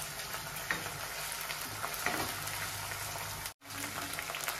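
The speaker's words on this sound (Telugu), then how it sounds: "ఇప్పుడు ఈ అల్లం తెల్లగడ్డ పేస్ట్ వేసుకుందాం. అది కానీ ఫ్రై అయ్యింది ఆయిల్లో." Ginger garlic paste frying in hot oil for an egg tomato curry, a steady, close, crackling sizzle with small pops and occasional stirring, continuing throughout apart from a brief break near the end, with no voice.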